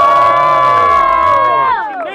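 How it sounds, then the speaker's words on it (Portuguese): A crowd at a student rap battle cheering and shouting loudly, a dense sustained roar of voices with high shrieks on top, close and continuous throughout. "Grita, bate palma."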